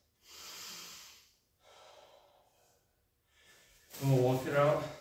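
Heavy rhythmic breathing during a kickboxing-style workout of front and roundhouse kicks: three strong inhale-exhale bursts, the last loudest and voiced, close and alone.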